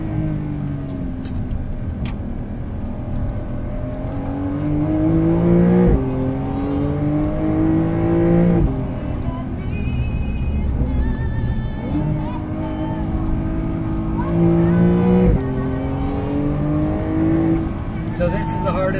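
A Porsche 992.1 Carrera S laps the APEX Motor Club race track, its engine heard from inside the cabin rising and falling through repeated accelerations and gear changes while people talk over it.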